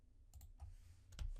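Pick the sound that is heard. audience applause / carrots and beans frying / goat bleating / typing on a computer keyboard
typing on a computer keyboard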